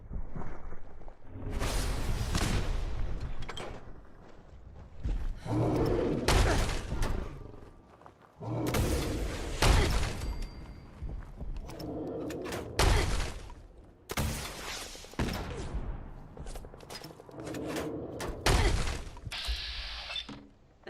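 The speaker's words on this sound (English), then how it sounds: "Missile launcher." In Fallout 4, a missile launcher fires and blasts boom out in several loud, separate bursts, each sharp burst trailing into rumble between quieter gaps.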